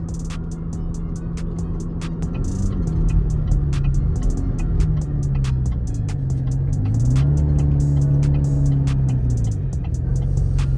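A V6 Camaro engine idles rough after an 80mm throttle body install, a loud, continuous low rumble with a wavering pitch that rises and dips as the idle hunts, over a faint ticking patter.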